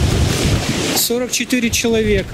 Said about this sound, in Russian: Ветер, с ума сойти. Меня сейчас унесет.